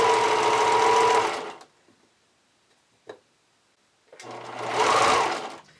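A sewing machine stitches Lola hipster panties in two short bursts with a quiet pause between them, its whirring motor loud and close.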